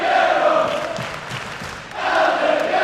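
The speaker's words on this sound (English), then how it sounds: "Crowd are firmly behind El Ligero here in Liverpool." A wrestling crowd in Liverpool roars in support of the Mexican luchador El Ligero, a dense, steady wash of cheering and shouting that dips briefly in the middle before swelling loud again.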